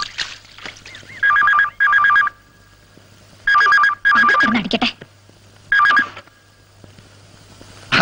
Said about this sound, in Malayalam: ഫോൺ എടുക്കാൻ അവിടെ ആരും ഇല്ലേ?